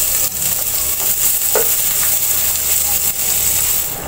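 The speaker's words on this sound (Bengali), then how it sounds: "মশলাগুলো একটু ভেজে দিব হালকা, একটু হালকা গ্রান বের হওয়া পর্যন্ত" Spices and onion frying in a pan, with a loud, steady, close sizzle running throughout and a few faint stirring clinks, no voices.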